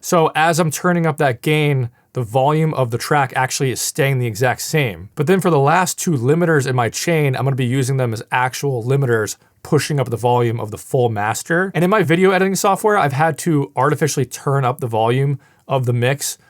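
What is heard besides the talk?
None of the usual background noises is heard.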